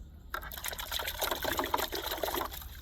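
Water splashes and trickles over a freshly caught blue crab as it is rinsed, a brief, close, bubbly run of liquid that starts abruptly after a moment of quiet.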